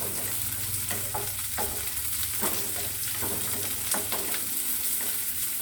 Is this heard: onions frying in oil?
yes